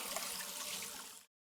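Running water rinses crochet-inspired embroidery through a strainer into a bowl, a loud, steady rushing stream that cuts off abruptly near the end.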